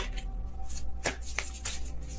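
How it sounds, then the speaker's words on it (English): Tarot cards shuffled by hand in a loose, slightly sloppy riffle, a close run of papery flutters with a few sharper snaps, heard alone without talk. "Kind of sloppy shuffle there."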